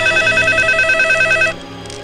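A telephone rings loudly with a steady electronic trill for about a second and a half, then cuts off into a low background hum.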